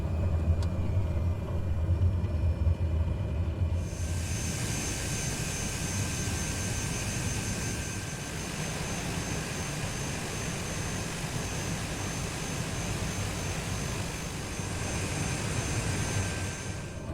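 Propeller aircraft engine in Microsoft Flight Simulator, on a remote bush airstrip in Papua, Indonesia: a low rumble idles, then swells sharply to a loud, steady full-power roar that holds for the rest of the clip.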